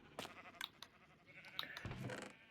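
Sheep bleat faintly in a Minecraft-style video game, with a few short, scattered bleats and soft blocky game sounds, all at low volume.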